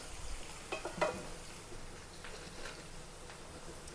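Garlic, shallots, chopped green chilies and curry leaves fry in hot oil, giving off a soft, steady sizzle. A few brief stirring clinks come early on.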